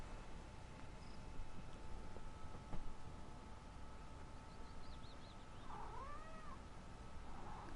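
A cat meows a few times, faint and somewhat distant, rising wavering calls over a constant outdoor hiss with no talking.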